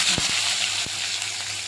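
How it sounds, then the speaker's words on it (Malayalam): Mustard seeds pop and sizzle in hot oil along with chopped onion, producing a dense, continuous close-up hiss punctuated by a couple of sharp pops. "കടുക് പൊട്ടി"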